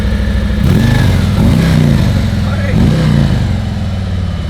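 Close and loud, an 1800cc Harley V-twin motorcycle engine runs with a smooth, steady rumble, rising in a couple of brief revs.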